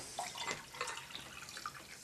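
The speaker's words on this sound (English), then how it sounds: "Alright, now to pour me some." A milky Tropical Colada drink is poured from a bottle into a glass, a soft, quiet liquid trickle with light splashing, close by and with no talking.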